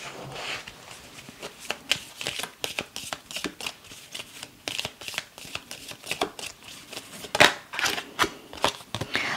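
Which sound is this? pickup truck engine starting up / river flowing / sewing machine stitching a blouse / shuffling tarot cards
shuffling tarot cards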